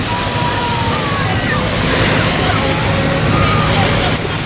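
Ocean waves wash onto a beach in a loud, continuous roar mixed with wind noise, with no distinct breaks between the waves and faint voices in the background.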